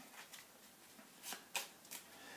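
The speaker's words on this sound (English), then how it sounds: "Give it a quick shuffle." A deck of cards from the Brass Empire card game is given a quick shuffle, with a few soft, close riffling bursts in a quiet room.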